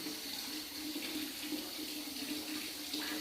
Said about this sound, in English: the water will be filling up